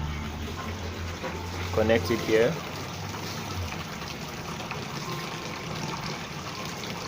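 Water runs steadily from a hose into a catfish tank, a continuous wash of flow beneath a brief moment of talk.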